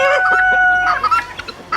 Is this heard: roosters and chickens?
yes